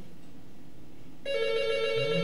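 A telephone bell rings suddenly after a quiet room tone, a bright sustained ring that starts about halfway through and carries on loudly to the end, with no talk over it.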